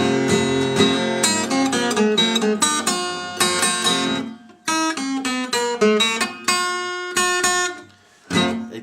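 A short blues lick, drawn from the G blues scale, rings out on solo guitar in quick plucked runs of notes, with brief pauses between phrases and no voice.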